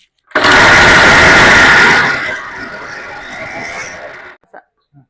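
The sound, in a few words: mixer grinder grinding masala with peanuts, ginger, garlic, chillies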